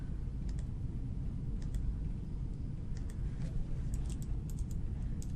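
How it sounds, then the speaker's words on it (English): Soft, quiet clicking of computer keyboard keys in short scattered bursts over a steady low background hum, with no talking. "And I can type here"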